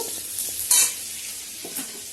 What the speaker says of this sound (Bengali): এই যে এইদিকে সবজিগুলো ভাজছি